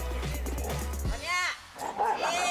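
A hungry dog confronts a goat defending its meal, with barks and yips and a whimpering, roar-like cry rising over a low rumbling background, loud and close.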